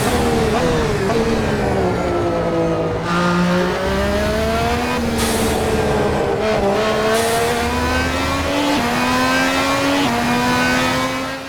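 A Fenix P30 LMP1 race car engine in the Assetto Corsa video game screams loudly and continuously, rising through the revs with repeated shifts and no talk over it.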